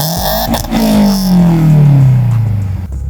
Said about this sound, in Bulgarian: Това сега, където чухте, е колата, кога не надува турбото.